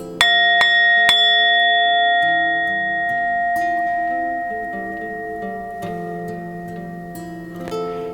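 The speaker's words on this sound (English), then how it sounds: "we see an angel who rings a bell." A bell rings out three clear, bright strikes in quick succession, and their long metallic tones slowly fade over a soft background of sustained music.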